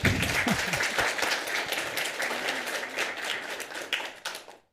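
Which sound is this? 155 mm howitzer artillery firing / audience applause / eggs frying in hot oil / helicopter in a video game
audience applause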